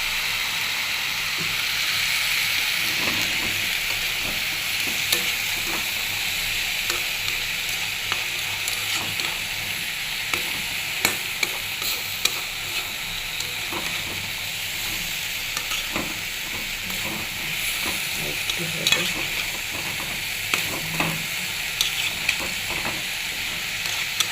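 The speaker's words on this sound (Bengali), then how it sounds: "রসুন পেঁয়াজ একসাথে দিয়ে তেলে ভাজি দিয়েছি।" Garlic and onion fry together in oil with a steady, moderately quiet sizzle and hiss, dotted with light ticks and scrapes from stirring over about twenty-four seconds.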